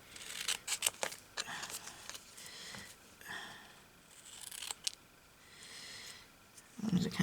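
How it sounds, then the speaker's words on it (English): Scissors snipping through fabric on a fabric-covered paper clip craft, several short, close cutting sounds and rustles of material in scattered bursts, with a brief low voice near the end. "I'm going to cut this off here."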